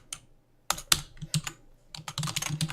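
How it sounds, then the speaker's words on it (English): Keystrokes clatter on a computer keyboard, starting with a few separate taps and then running into a quicker burst of close, crisp typing, with no talking. "So let me type it in this time."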